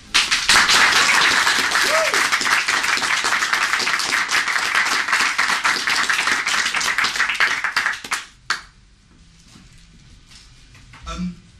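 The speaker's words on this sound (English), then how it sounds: "I'd like to ask you to give them a warm round of applause." Audience gives a warm round of applause at a comics talk event, sustained dense clapping for about eight seconds that then stops abruptly, followed by near silence and a faint rustle.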